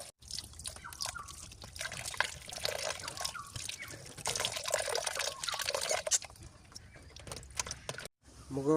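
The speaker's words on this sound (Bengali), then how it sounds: "বড়ই, ধনিয়া পাতা, কাঁচামরিচ এগুলো এখন ধুয়ে নেব মোরা আগে।" Jujubes, coriander leaves and green chilies are washed under a running tap, water splashing and trickling steadily with faint clatter of handling up close.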